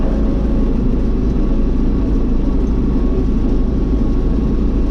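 An MTZ 952 tractor engine runs at about 1600 rpm while pulling a General 2.6 disc harrow through corn stubble, a loud, dense, unbroken mechanical roar heard from close by.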